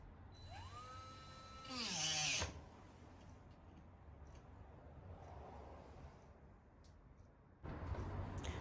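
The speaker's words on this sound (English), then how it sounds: "after cutting it with the Dremel" A Dremel rotary tool cuts flexible OO-gauge model railway track in short whirring bursts, pitching up and winding down around a loud buzzing cut. Another loud burst comes near the end in an otherwise quiet room.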